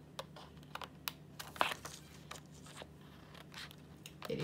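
Stampin' Up scissors snip through a rhodoid acetate sheet in a series of sharp, crisp cuts and crinkles, brief irregular clicks close up against a quiet room.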